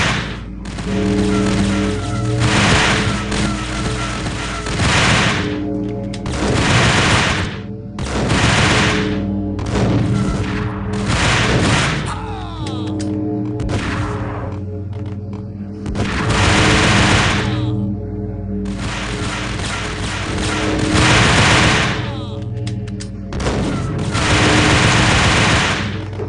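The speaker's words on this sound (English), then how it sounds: "Hey, who's shooting?" Gunfire in the video game Max Payne comes in loud rapid automatic bursts, repeated volleys of several seconds separated by short pauses, with heavy booming impacts and no talk.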